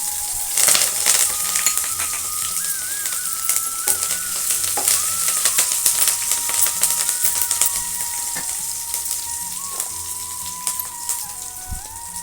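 Green chillies cut into six pieces and curry leaves hit hot frying oil for a masala dosa filling, crackling and sizzling loudly and continuously with sharp pops and spatters throughout.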